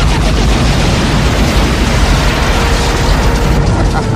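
Missile strike explosions in an action movie, a sustained loud rumbling blast with crackling debris filling the whole stretch, no clear pauses.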